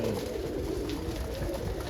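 A young roller pigeon cooing at the loft, soft low coos over a steady background hum, faint and continuous with no talking.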